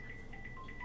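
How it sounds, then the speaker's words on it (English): A phone gives a notification alert: faint, short electronic beeping tones repeat a few times over a quiet background. "That's my phone, and I may have to take a look at it."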